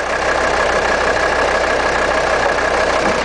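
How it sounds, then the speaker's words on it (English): A Mercedes 300 Turbo Diesel station wagon's five-cylinder diesel engine idles steadily and evenly, a close, continuous mid-pitched hum and rumble with no talk over it. "The motor's nice and quiet, even though it has those miles."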